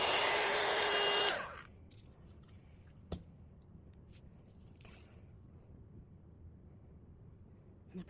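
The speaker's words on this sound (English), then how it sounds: "I'm going to use my heat tool" A heat tool blows a loud, steady rush of air over a paper craft cutout for just over a second, then cuts off, leaving a quiet room with a few faint taps and clicks.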